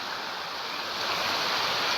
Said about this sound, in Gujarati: આ જોરદાર વરસાદ આ પાણી નંદીનું